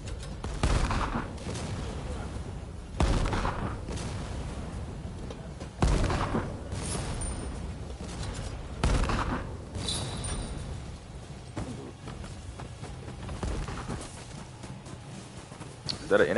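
Gunfire in a video game set at the Battle of Toba-Fushimi: scattered loud musket-style shots and booming volleys at irregular intervals, with a rumbling battle background and voices underneath.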